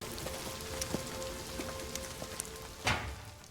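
Rain falls steadily through a film scene, a soft continuous patter on surfaces with scattered sharper drips and one louder splash near the end, with no one speaking.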